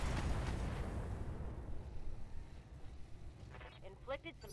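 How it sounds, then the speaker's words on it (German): Heavy weapons fire from a mech in the video game Battletech, a dense booming barrage at the start that rumbles and decays over several seconds, with a voice talking toward the end. "Trotz der Hitze schieße ich alles."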